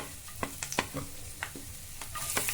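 Onion, ginger, garlic and green chili fry over medium flame in a pan for a fenugreek leaf thoran, a soft, steady sizzle punctuated by a handful of quick spoon clicks and scrapes.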